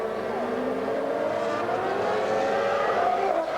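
Formula 1 cars from the 2004 US Grand Prix idle along slowly behind the safety car, a steady droning engine whine with gently shifting pitch, sustained and moderately loud.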